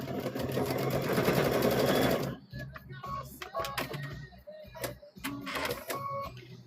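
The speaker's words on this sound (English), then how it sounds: "So we're going to sew across here." A sewing machine stitches across a quilt block in a fast, even mechanical whirr for about two seconds, then gives way to softer handling noises and faint talk.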